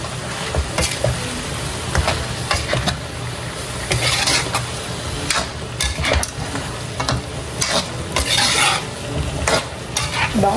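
Eggplant is stirred into a squid stew soured with kamias and katmon: a steady scraping and clattering in the pot over a constant sizzle, continuous and close, with no one talking.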